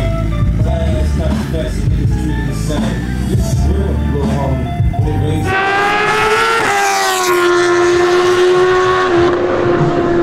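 A Yamaha R7 motorcycle at a trackday, first heard as a mix of rumbling engine and wind, then rising into a loud, high, steady engine whine that climbs in pitch as the bike accelerates down the race track.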